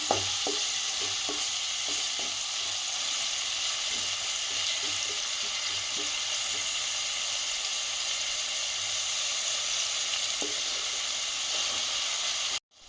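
Sliced onions and green chillies fry in oil until browning for a cashew paneer masala curry, giving a loud, constant sizzling hiss with a run of light spatula taps and scrapes, then an abrupt stop.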